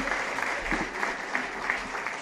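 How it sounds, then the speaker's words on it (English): A lecture hall audience applauding after an inaugural distinguished lecture, continuous even clapping heard from some distance at fairly low level, with no talk over it. "Let's give her a big round of applause."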